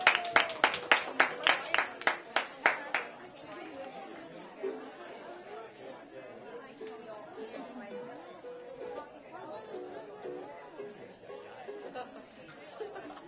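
Applause and cheering from a school poetry slam audience greeting a ukulele player, with a burst of about ten sharp claps in the first three seconds, then crowd chatter and talk carrying on underneath.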